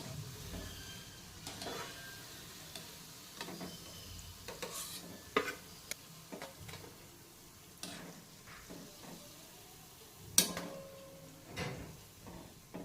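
Methi gota fritters frying in oil, a soft steady sizzle with scattered clinks and scrapes of a utensil against the pan, quiet and close with no talk.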